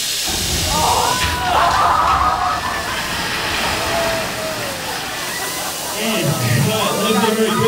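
A big rushing splash of water sweeps through a Disney World show as a physical effect, a loud, broad roar that swells and churns, with a voice audible over it.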